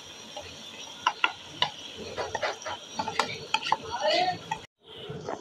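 Chickpeas, tomatoes, green chillies and spices stirred and fried in a pot for chana pulao: repeated scraping spoon strokes over a soft sizzle, close and busy, ending in a brief pause.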